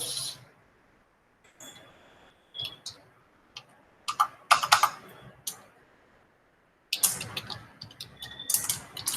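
Irregular clicks and bursts of keystrokes on a computer keyboard, quiet and close, with short pauses between flurries and a denser run of typing toward the end.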